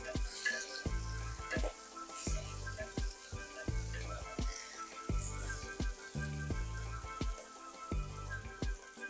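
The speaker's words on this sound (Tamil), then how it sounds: "இது கூட வெங்காயம் சேர்த்துருவோங்க சேர்த்துட்டு நல்லா கிண்டி விடுங்க கொஞ்சம் ஓரளவுக்கு வதங்கட்டும் வெங்காயம்" Chopped onions sautéing in a pan for tomato rice, a soft continuous sizzle broken by regular scraping strokes of a spoon stirring them, about a dozen strokes at a steady rhythm.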